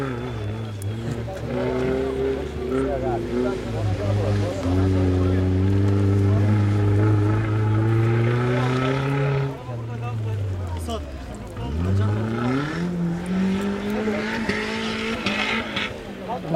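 A jeep plows through water at the Korgan Tepealan off-road jeep festival in 2012, its engine droning and revving up and down continuously, with voices in the background.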